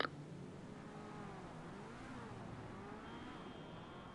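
Engine of the Overflod Tyrant supercar in GTA Online, a smooth continuous drone with rising and falling revs, faint and steady, and a thin high whine joining near the end.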